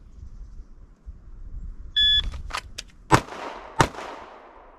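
A shot timer's sharp electronic beep, then several loud pistol shots drawn from concealment, each a sharp crack following quickly after the tone, heard close up in an otherwise quiet outdoor setting.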